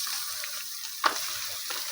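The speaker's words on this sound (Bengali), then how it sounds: "এখন সিমটা আর আলুটা মশলার সঙ্গে ভালো করে মিশিয়ে নিচ্ছি।" Potatoes and beans frying with spices in a pan are stirred, a steady hiss of sizzling with a single clear scrape of the utensil near the middle, close and moderate.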